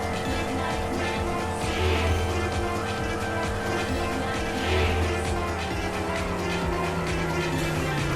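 Car engine and tire noise from the driving video game Midnight Club LA, a steady revving drone with squealing tires as the car oversteers on a freeway overpass, loud and continuous with no talking.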